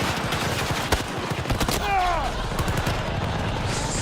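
Rapid bursts of gunfire in the video game Battlefield 2042 crackle over a dense battle din, with a brief voice-like sound partway through.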